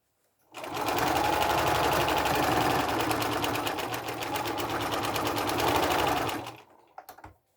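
A sewing machine top-stitches fabric in one continuous run of rapid, even needle strokes, starting abruptly, holding steady for about six seconds, then stopping, followed by a couple of small handling clicks.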